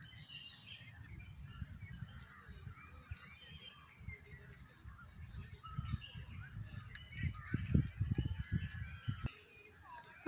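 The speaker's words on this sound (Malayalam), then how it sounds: "അവിടെ ഇരുന്നൊരു കാക്കയും പാട്ട് പാടുന്നുണ്ട്" A crow calls among other bird chirps in the trees of an eco park near Kannur, with scattered calls in the mid-distance over a steady low rumble of background noise.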